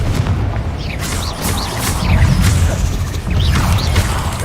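Confringo fire spell fired in Hogwarts Legacy, a loud, dense burst of booming, crackling impact noise with whooshing tones that swells and rolls across several seconds.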